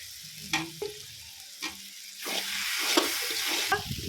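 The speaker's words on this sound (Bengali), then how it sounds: "আদা, টমেটো দিয়ে দিচ্ছি," Ginger and tomato go into mutton masala frying in a pan for mutton curry. A spatula scrapes in short strokes over a steady sizzle, and the frying swells louder and denser through the second half.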